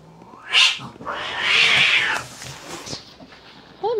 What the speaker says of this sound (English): Oh, there's the other kitty.